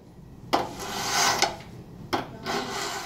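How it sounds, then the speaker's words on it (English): Tools scraping and trimming a dried clay pot, two separate rasping strokes, each with a sharp onset and a sustained gritty rub, close and fairly quiet, with no talk. "Now that your potted objects have dried for a few days, you can start trimming."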